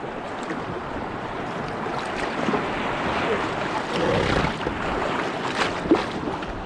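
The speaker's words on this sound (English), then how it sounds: "There's a small little swell here today." Small sea swell sloshing around a kayak off the coast of Corsica on a windless day, a continuous close washing of water against the hull and nearby rocks, with a few soft splashes.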